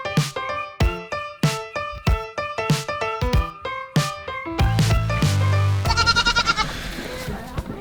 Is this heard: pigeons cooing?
no